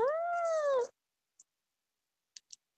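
A cat gives one clear, drawn-out meow lasting under a second, followed by silence and a few tiny faint clicks.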